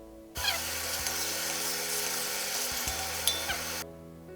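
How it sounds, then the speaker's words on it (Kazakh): Onions frying in oil in a pot for plov, a dense continuous sizzle that starts abruptly, holds steady with a few stirring knocks and cuts off near the end. "Енді біз пияздарымызды салып,"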